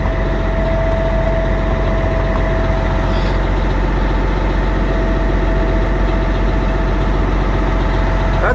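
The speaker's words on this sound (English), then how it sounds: "But the truck's warming up." A truck engine idles steadily while warming up in cold weather, a continuous low rumble with a faint tonal whine, close and loud with no talking.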